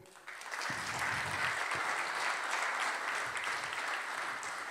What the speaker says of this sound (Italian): Io chiedo un applauso per la pasticceria Antichi Sapori.